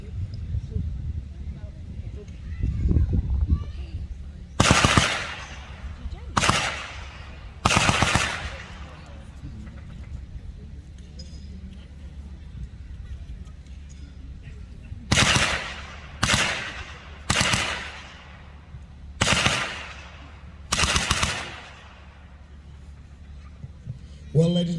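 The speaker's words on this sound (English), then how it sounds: "Browning gunner in your own time. Load, make ready," A Browning M1919 machine gun fires short bursts during a live demonstration at a heritage display, loud sharp reports in separate groups spaced several seconds apart over a low outdoor rumble.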